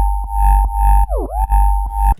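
Sustained synth bass in Ableton ducked by fast-release sidechain compression, its level dipping briefly at each kick-like pulse and recovering quickly, heard alone.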